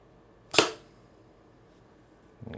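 An IntruBuster Gen 2 carbine air rifle with a 12-inch .686 barrel, HD24 Long tuning and 1100 psi fires one sharp, crisp shot firing a 10-gram projectile, followed by a faint mechanical click.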